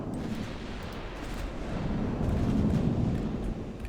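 Warship guns firing in the naval battle game Ultimate Admiral Dreadnoughts, heard as low rumbling booms that swell and fade into a continuous roar, moderately loud with no voices.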